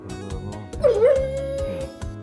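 Džipo, a pet dog, gives a quick series of sharp yips and whiny barks close by, with a short rising whimper partway through.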